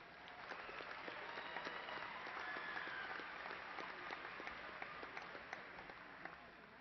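An audience at a university commencement applauds graduates, sustained even clapping from a large crowd, distant and faint.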